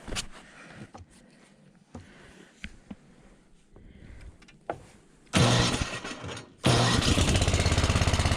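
A small engine with its choke on is started. Quiet clicks and fumbling come first, then two loud bursts of cranking and firing, the second settling into a steady close running roar.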